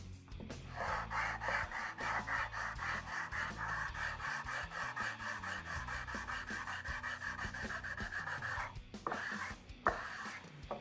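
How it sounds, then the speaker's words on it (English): A sanding block with 240 grit sandpaper rubbed lightly over wood to level a repaired drill-hole plug, a steady rhythmic back-and-forth rasping close up, continuous for about nine seconds before a brief pause and a few last strokes. "Now we're going to lightly sand with a block that's got 240 grit sandpaper on it, just to level it off."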